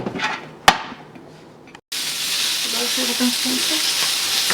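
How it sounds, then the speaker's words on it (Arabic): Small peppers going into olive oil in a pan. After a few clinks and a sudden cut, a loud, steady frying sizzle carries on, close and continuous, with no talking. "اول حاجه غادي ندوزو الفلفلات ديالنا الصغار غندوزوهم غير شويه في هاد الزيت هادي"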